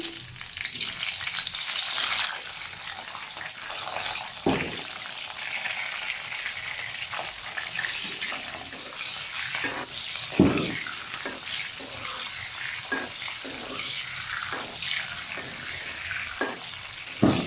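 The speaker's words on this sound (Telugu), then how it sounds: "వీటిని ఫ్రై చేసుకుందాం ముందుగా పచ్చిమిర్చిని" Green chillies sizzle and crackle steadily in hot oil in a pan, with repeated scraping stirs of a spatula breaking through the frying noise, close and fairly loud throughout, no talking.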